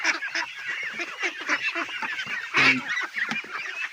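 Domestic ducks being fed azolla call out in a busy overlapping chorus of honking quacks, close and continuous, with a louder burst partway through and no talking.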